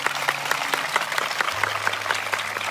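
A church congregation at a revival meeting in Sahiwal claps together in loud, dense, continuous applause, with rapid overlapping claps and a low hum beneath, sustained throughout.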